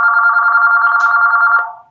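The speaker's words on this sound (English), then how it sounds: "We'll let the phone ring here for a minute" A telephone rings in the background with a steady electronic trill that holds for nearly two seconds and then cuts off, with no one talking over it.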